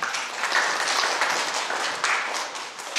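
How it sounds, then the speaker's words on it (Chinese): An audience claps warmly at a music performance, with steady, dense applause throughout. "我们给予热烈的掌声。"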